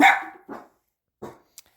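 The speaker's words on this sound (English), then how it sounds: "Sorry, you can hear my dog." A dog barks indoors, one loud sharp bark followed by two shorter, softer ones after pauses, then a tiny yip.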